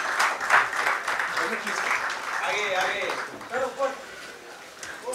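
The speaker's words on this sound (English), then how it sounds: "A huge round of applause for our president as well." A crowd at a seminar panel discussion in a Lonavala hotel applauds the president, a steady wash of clapping throughout with voices talking over it in the latter half.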